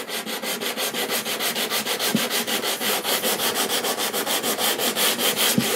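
Guitar fretboard being sanded to a compound radius with a sanding block: fast, even back-and-forth rasping strokes, about five per second, close and steady with no talk.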